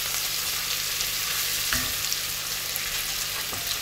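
Whole spices frying steadily in a hot pan for aloo gobi, a constant close sizzle with a couple of brief stirring knocks partway through.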